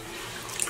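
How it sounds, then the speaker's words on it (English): Plain tap water runs steadily to rinse ice-dyed yarn, a continuous close hiss of flowing water with no talk over it. "This is just some plain tap water, and we are rinsing it to check for color bleeding"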